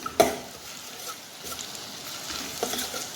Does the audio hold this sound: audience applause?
no